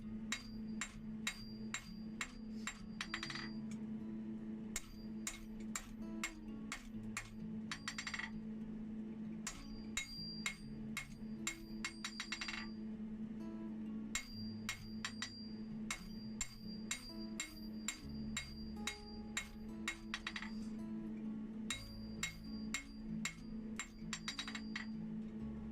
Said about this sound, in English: I'm starting off by drawing it out pretty much square and then into a rectangular shape